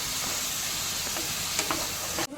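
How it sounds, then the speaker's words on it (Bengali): Chicken pasta sauce sizzling steadily as boiled tomato paste is stir-fried with the chicken, with a few scraping spoon strokes before a sudden stop near the end. "সেই টমেটো পেস্টটা এখানে দিয়ে আরও ভালো মতো করে কষিয়ে নিচ্ছি"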